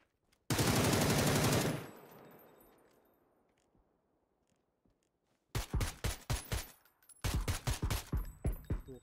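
Video game machine gun fire in a drive-by shooting: a long sustained burst up close, a fading tail, then two sets of rapid rattling shots.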